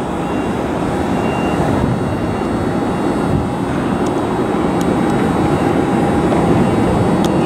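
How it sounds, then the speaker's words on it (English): Allegiant Airbus A321 jet airliner just arrived from Phoenix, a steady loud engine roar and rumble heard from outside at the airport, continuous with no voices. "It's our old friend Courtney the Cougar. A321, it just came in from Phoenix."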